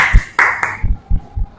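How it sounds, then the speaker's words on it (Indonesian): Clapping in a school classroom: a few sharp, close claps mixed with bright clicks, spaced irregularly over a second and a half. "tepuk tangan"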